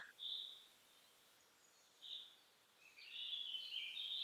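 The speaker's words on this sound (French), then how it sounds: "Vous entendez un oiseau" A bird in a forest gives faint, distant, high chirps in a few short bursts over quiet background hiss, with a longer twittering phrase near the end.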